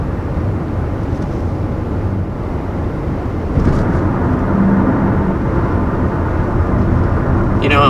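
A 2020 Nissan Murano with its VQ engine accelerates toward 60 mph, producing a steady, close, broadband engine and road roar that steps up in loudness partway through and holds there, with no talking.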